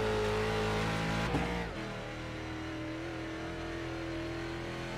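Race car engine in the iRacing sim, a low-horsepower stock car driving around Charlotte Motor Speedway, steady loud droning engine with a brief shift in pitch partway through, no talk.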